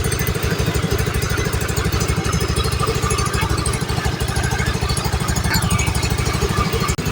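A Honda Vario 110 scooter idles close by, its engine producing a steady, even, rapid chugging pulse that continues without a break.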